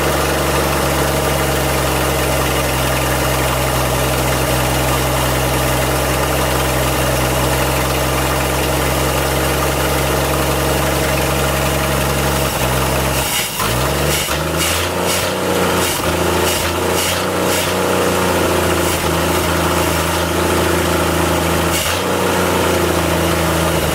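A 1958 Ford F100 truck engine idles steadily on half choke with a loud, continuous low rumble, then stumbles briefly partway through before settling back into an uneven idle, with no voices.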